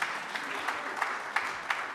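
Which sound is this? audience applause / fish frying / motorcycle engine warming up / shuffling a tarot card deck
audience applause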